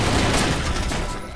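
Rapid gunfire in the zombie shooter Zombie Panic! Source, a dense, loud burst of overlapping shots that runs steadily for over a second before tapering slightly.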